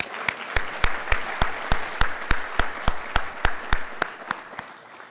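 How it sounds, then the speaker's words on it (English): An audience at a city State of the City address applauds the Honor Guard, with one nearby pair of hands clapping in a steady, even beat over a broader wash of crowd clapping. "Let's give our Honor Guard a round of applause."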